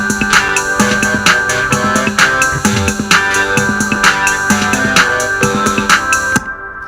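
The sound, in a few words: chorus of a student song project played back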